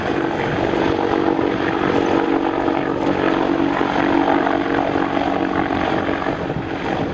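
Boeing AH-64 Apache attack helicopter flying a display at the ILA Berlin Air Show, its rotor and engine roar loud and continuous throughout with a steady low drone.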